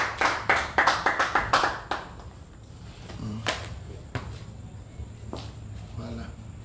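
A church gathering breaks into a short burst of rhythmic applause for Jesus, then fades to scattered knocks and shuffling under a room murmur.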